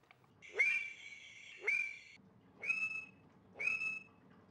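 Mating calls of West African frogs, Conraua alleni, from Sierra Leone: four separate high, whistle-like calls with sharp upward onsets, evenly spaced about a second apart, fairly faint over quiet outdoor background.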